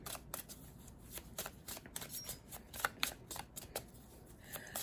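Tarot and oracle cards being shuffled by hand, a steady run of crisp riffling and flicking bursts, close and alone with no talking.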